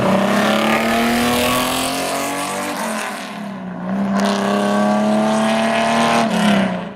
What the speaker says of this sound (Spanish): El sonido es maravilloso. Y solo voy a 4000 revoluciones por minuto.